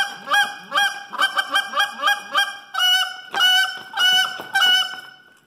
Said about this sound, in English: that is the most important goose call you can have. And I can do just the basic notes while I'm doing it.